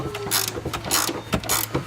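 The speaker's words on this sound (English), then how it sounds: "You may have to use a wrench instead of a socket like I'm doing." A socket wrench ratcheting in short repeated bursts while tightening rear strut bolts on a 2001 Oldsmobile Intrigue, loud and close with a faint steady hum beneath.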